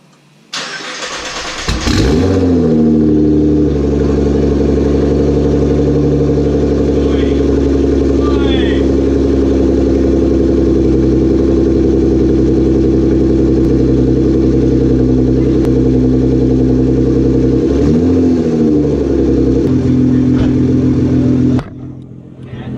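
Nissan GT-R with newly installed 1150cc injectors and HKS blow-off valve cranks and fires up, then settles into a loud, steady idle with a brief rev near the end before shutting off.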